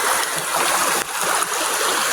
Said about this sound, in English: here's where the creek turns around